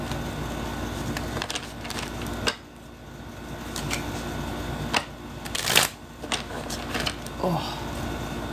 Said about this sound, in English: I shuffle for stim reasons.